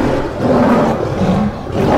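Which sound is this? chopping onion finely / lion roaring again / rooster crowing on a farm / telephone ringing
lion roaring again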